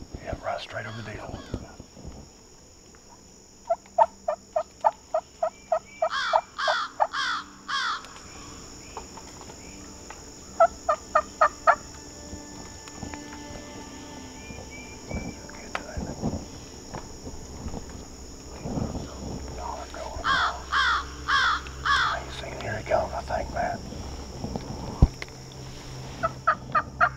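A wild turkey gobbler in South Florida in spring gobbles in several loud, rapid bursts spread across the stretch, with crickets and insects buzzing steadily underneath and quiet murmured voices in between.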